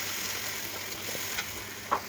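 Rice fried and stirred with tomatoes in a pan, giving a steady soft sizzle with a few faint scraping stir sounds and no talking.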